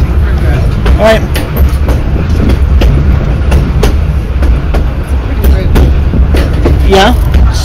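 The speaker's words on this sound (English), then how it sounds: "the train's on your side right now" A train rumbles past nearby with steady low rolling noise and faint rail clatter, continuous throughout, while people talk over it inside a moving vehicle.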